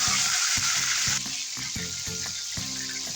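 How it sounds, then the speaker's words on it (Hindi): Soaked dal deep-fries in hot oil for mix nimko, a dense bubbling sizzle punctuated by a rhythmic series of dull knocks, loud at first and then settling slightly lower. "ये दाल है जो मैंने तकरीबन 4 से 5 घंटे भिगो ली थी, इसको इसके अंदर फ्राई करेंगे।"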